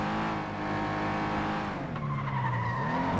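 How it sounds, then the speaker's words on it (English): A race car in FlatOut 2 brakes hard, its tires skidding and squealing loudly over the steady roar of the engine, with the pitch sliding as the car slows. "And hard on the brakes."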